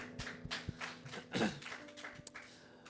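Scattered hand claps, irregular and fairly quiet, from a small group clapping at a distance during an online church worship service, with some room thumps.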